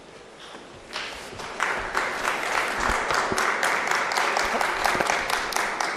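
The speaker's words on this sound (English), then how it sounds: "when you clap for me, I find it a bit strange" An audience at a national dialogue convention in Pretoria, South Africa, breaks into applause that builds quickly after a second and continues as dense, even clapping from a large crowd, moderately loud and steady to the end.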